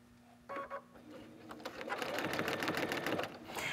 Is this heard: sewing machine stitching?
yes